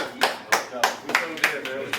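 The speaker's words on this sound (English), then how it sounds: "Clap it up." Several people clap together in a quick, steady rhythm, about three claps per second, close and lively, in a hip-hop podcast studio. Voices sound faintly underneath.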